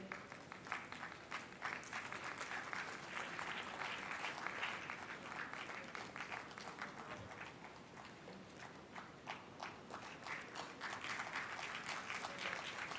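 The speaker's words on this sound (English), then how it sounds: "Can we have a huge round of applause for all the champion banks" An audience at a government award ceremony honouring champion bank branches applauds steadily, a fairly faint, distant patter of many hands clapping that continues throughout.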